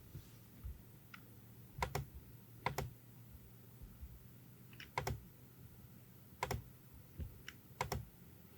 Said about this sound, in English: So go ahead and type in your correct email here.